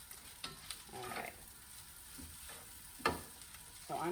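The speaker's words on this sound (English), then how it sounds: "You can hear it frying." Onions and fried rice sizzle in a hot pan, with a steady fry hiss broken by a few louder scraping stirs near the microphone and no talking.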